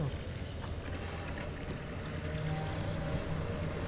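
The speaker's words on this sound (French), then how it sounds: "j'ai laissé le moteur allumé, donc techniquement je peux partir direct" A car engine idles in the survival horror game Pacific Drive, a steady low rumble with faint wind-like noise over it, constant and unbroken.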